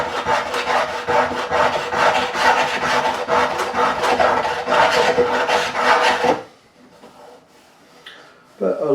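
Scraper rasping along the wooden neck of a Warwick Corvette bass, rapid rhythmic strokes close and loud for about six seconds, then stopping into near quiet.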